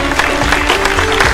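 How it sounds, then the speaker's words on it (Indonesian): Audience applause at an Indonesian Islamic-investment talk show, honoring the speakers at the close: a brief, dense spatter of clapping from a crowd, steady and fairly loud for its short span with no voices over it. "Ayo dong tepuk tangannya yang terakhir untuk narasumber."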